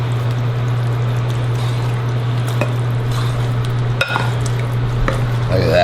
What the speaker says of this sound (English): I'll just use something called a spoon instead of my hands